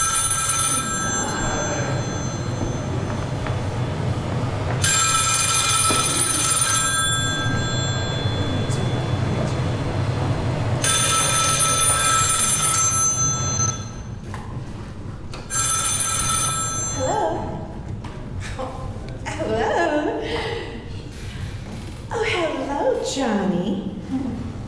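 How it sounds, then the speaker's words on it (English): A telephone bell rings in repeated bursts during a stage performance about a book club, loud over a steady background murmur, with someone talking between and after the rings. "Is it my phone?"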